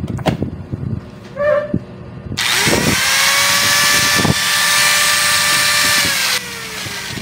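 A repaired junk-shop angle grinder switches on with a loud whining motor hum that runs steadily for several seconds, then spins down, after some clicks and handling knocks before it starts.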